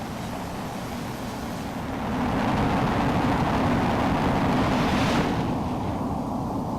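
A jet is catapulted off an aircraft carrier in Flight Simulator X, its engine roar at full military power rising in a loud, steady rush with a brief whoosh of launch and no talk.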